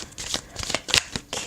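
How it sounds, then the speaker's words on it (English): Tarot cards shuffled by hand, a quick run of riffling, flicking bursts with short pauses between them, close and fairly quiet. "I do like to do a little bit of live shuffling on camera."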